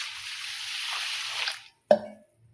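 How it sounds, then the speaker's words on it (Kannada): Ration rice is washed in water, giving a steady close-up splashing and sloshing that stops abruptly, then one sharp wet slap or splash and a short silence. "ಹೀಗಾಗಿ ನಾನು ಇದನ್ನು ನೀರು ಹಾಕಿ ಚೆಂದಾಗೆ ತೊಳ್ಕೊತೀನಿ."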